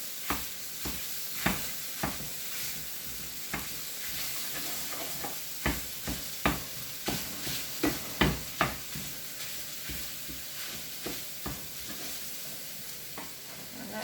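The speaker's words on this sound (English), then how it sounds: "Punch this down with my hamburger chopper." Sausage sizzles in a hot iron skillet while a hamburger chopper scrapes and taps against the pan in repeated rhythmic strokes over steady frying crackle.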